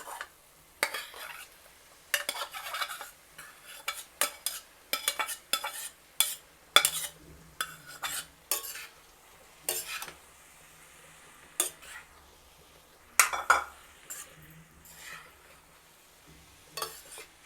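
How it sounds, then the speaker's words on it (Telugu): Boiled beetroot pieces are stirred into a pan, with repeated scraping and clinking of a spoon against metal in irregular bursts over a faint background sizzle and no talk. "మనం ఉడికించుకున్నాం కదా బీట్రూట్ ముక్కలు, వీటిని వేసేసి కలపాలి మళ్ళీ"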